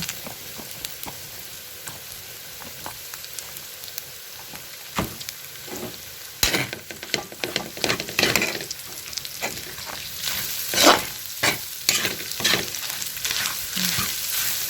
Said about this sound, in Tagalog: Ihulog nyo ngayon yung sibuyas at bawang.